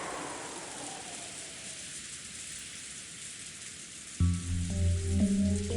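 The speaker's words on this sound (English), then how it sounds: "Silence between the two was filled by the sound of the wind and rain." Steady rain hiss with gusting wind fills the whole stretch at moderate level, a faint descending tone fading early, then music enters near the end over the rain.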